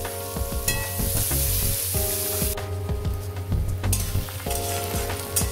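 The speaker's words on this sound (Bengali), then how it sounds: "এবার আমি কেটে রাখা পেঁয়াজগুলো আমি দিয়ে ভেজে নেব" Chopped onions frying in hot oil with bay leaf and spices for a Bengali fish-head cabbage dish, a bright continuous sizzle with stirring, over background music.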